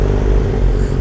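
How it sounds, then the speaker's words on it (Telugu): A BMW S1000 sport motorcycle fitted with an Akrapovic exhaust, heard idling or running steadily up close, its loud, rough low rumble held evenly for a brief moment with no voices. "ఈ 2 S1000లకి ఎగ్జాస్ట్లు ఉన్నాయి, 2 ఆక్రిపోవిచ్ అనుకుంటా"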